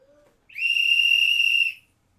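A single sharp, high whistle blast lasting over a second, loud and steady, with no talking.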